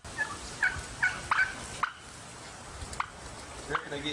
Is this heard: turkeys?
yes